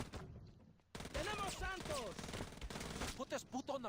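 Rapid bursts of submachine gunfire in a close-quarters video game firefight ring out loud and near, repeated under and between steady talking.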